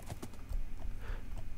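A horse in Minecraft trots with quick, close hoof clip-clops in an uneven rhythm, loud and alone without any talk.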